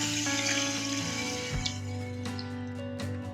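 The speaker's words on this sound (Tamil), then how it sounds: "இப்போது 1/2 லிட்டர் தண்ணிக்கு ஊற்றுறேன்." Water is poured into a cooking pot, half a litre, for rice and moong dal porridge in a home kitchen; a steady close splashing stream runs throughout with small clinks near the end, with no talk.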